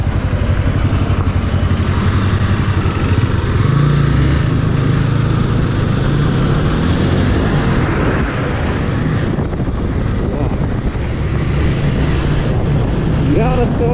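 A Hero Xpulse 200 motorcycle rides along a wet trail, its engine droning loudly and steadily with shifts in pitch as it throttles, heavy wind rushing across the microphone, and a voice talking over it.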